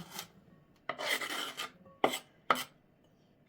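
A knife slices cucumbers on a board for a salad, giving a few distinct crisp chopping cuts separated by short pauses, close and alone with no talk.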